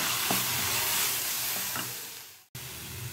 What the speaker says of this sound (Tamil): தக்காளியும் போட்டு நல்லா வதக்கிடலாம்